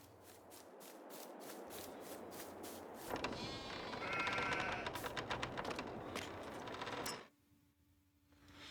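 Repeated sheep bleats from a realistic farm simulation game, layered with clicking and rubbing sounds, then a sudden drop to a quiet low hum near the end.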